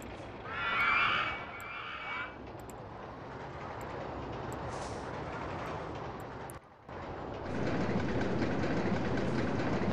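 A roller coaster train rumbles along track and climbs a spiral lift in OpenRCT2, with a continuous rolling mechanical noise, brief chimes early on, and a short dropout before the rumble swells louder.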